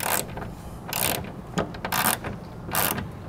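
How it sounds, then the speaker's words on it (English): A 7/16 wrench and socket ratcheting to tighten bracket hardware for a braking system on a 2018 GMC Sierra 2500, four or five loud, close bursts of rapid ratchet clicking with short pauses between. "we're gonna come back with a 7/16 wrench and socket and snug up the hardware"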